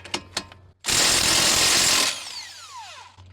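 A pneumatic impact wrench hammers loose an axle bolt on a Toyota Camry during a front CV axle replacement, one loud, dense rattling burst of about a second, followed by a falling whine and brief clicks.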